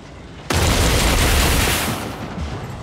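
Incoming gunfire in the mech combat video game Mecharena, a sudden loud burst that slams in and sustains as a dense roar of shots and impacts for about a second and a half before easing off.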